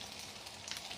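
Vegetables for salami bread sauté in a pan to soften, giving a dense, steady, fairly faint sizzle throughout with no voices.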